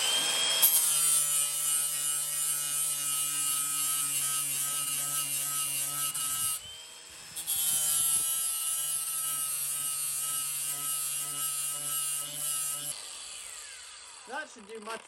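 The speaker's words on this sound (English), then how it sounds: "let's get the blade sharpened." Blade being sharpened on a powered sharpener, a steady high whining grind running in two long passes with a brief break between, then dying away into small scrapes, people talking at times.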